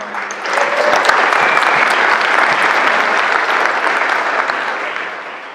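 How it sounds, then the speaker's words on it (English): Audience at a Dogecoin conference in San Francisco breaks into sustained, dense applause, loud and steady for several seconds before easing slightly at the end, with no talking over it. "everybody, round of applause for Charlie"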